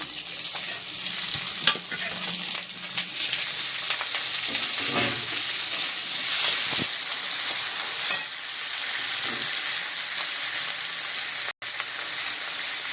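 Capsicum and chopped tomato stir-fry in a pan for veg soya chilli, a bright continuous sizzle broken by scraping spatula strokes, close and with no talking.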